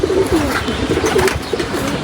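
A khaki pigeon cooing at home, a close, loud run of soft repeated coos in a low rolling rhythm, heard alone without talk.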